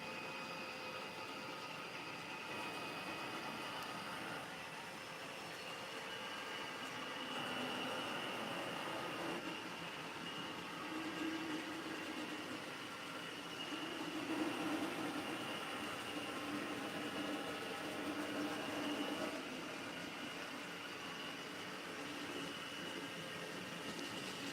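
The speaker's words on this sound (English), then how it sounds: "There comes the ore train power that we had before the refresh." Model railroad ore train locomotives running on a layout, a soft steady motor hum and rolling rumble that swells slightly as the locomotives pass, with no talking over it.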